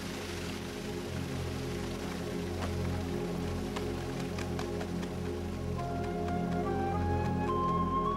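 Steady rain patters on concrete and asphalt, a dense hiss of drops with occasional louder splats, continuous and fairly close.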